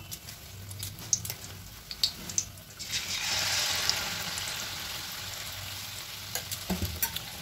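Pua pitha batter fries in hot oil in a steady sizzle, with a stronger hissing surge midway and a few light clicks of a utensil, close and without talk.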